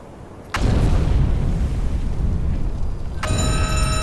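Torpedo strikes exploding against a ship in the UBOAT submarine game: a sudden loud, deep blast that rolls on as a sustained rumble, with a second impact near the end, no talk.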